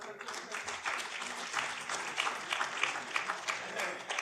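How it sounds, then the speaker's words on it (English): An audience at a national conference on mental well-being applauds in a steady, dense patter, with faint voices mixed in under the clapping. "Please give a huge round of applause."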